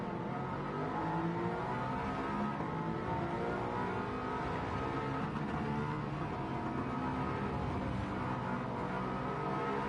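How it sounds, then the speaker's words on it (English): A race car engine in the GTCA Street Series at Catalunya, in a racing video game, revving hard near redline in second gear, a steady loud droning whine that holds for the whole stretch with small rises and dips in pitch. "his car just screams in second gear"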